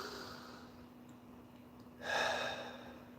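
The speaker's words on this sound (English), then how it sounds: "take a deep breath" One audible deep breath, a soft breathy inhale-exhale swelling up close in a quiet room against a faint steady hum.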